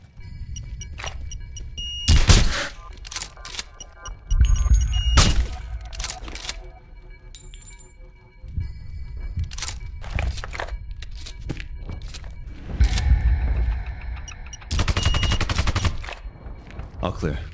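Gunfire in the Sniper Ghost Warrior video game comes in loud, heavy bursts of rapid shots separated by quieter gaps, with bassy impacts and ambient game sound between volleys.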